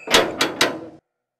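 Three loud, close knocks pound on a door in quick succession, each a heavy thud, with the last fading out after about a second.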